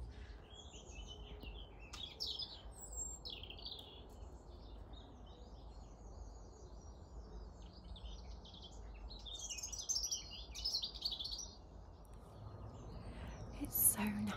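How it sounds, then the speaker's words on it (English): Birds chirp and tweet in short, scattered bursts at a distance in a garden, set against a steady outdoor background hum, with a few louder calls near the end. "can you hear the noisy birds?"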